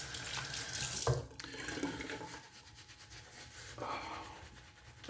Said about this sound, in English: I'm gonna add a little bit more water to the tips.